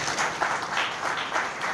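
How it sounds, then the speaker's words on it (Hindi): Steady, moderately loud clapping fills a Rotary Club installation ceremony as the audience applauds an honoree, with a gentle rhythmic swell throughout. "आप अपनी तालियां बजाते रहिए।"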